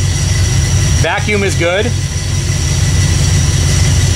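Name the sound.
1979 AMC AMX engine idling low at 700 RPM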